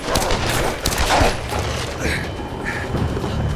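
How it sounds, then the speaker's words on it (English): Several distant gunshots ring out in the Tomb Raider (2013) reboot, dull thuds and booms spread over a few seconds beneath a dense, noisy game soundscape. "Lara's ears listen to a few gunshots in the distance."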